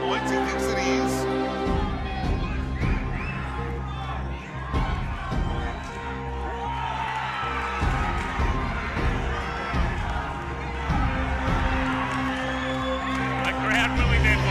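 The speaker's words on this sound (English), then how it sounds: "The crowd willing their fighter on." A boxing crowd at a main-event fight cheers and shouts for their fighter in a sustained, loud roar with whoops and scattered clapping. Announcer-style talk runs over it.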